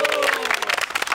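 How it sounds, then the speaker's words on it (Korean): An audience claps and cheers before a military talent show, a brief burst of dense applause with crowd voices mixed in. "박수!"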